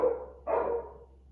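A rescue dog gives two short barks, the second sharper and louder than the first, each fading quickly into a quiet indoor background.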